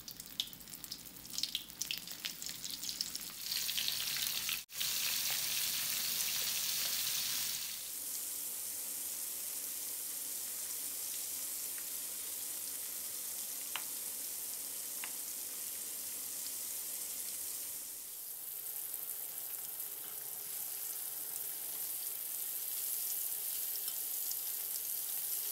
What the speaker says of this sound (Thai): เพื่อนๆชุบแป้งทอดกรอบเสร็จแล้วก็นำปลานิลของเราไปทอดกรอบกันเลยครับ